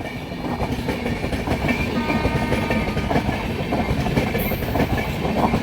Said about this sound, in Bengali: কুলিক এক্সপ্রেস এই মুহূর্তে ডাইভার্ট লাইনে আজিমগঞ্জ জংশন যাচ্ছে